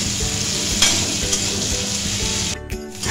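Potato pieces with a little turmeric frying in oil in a pan, a close, steady sizzle with stirring scrapes, briefly dipping near the end.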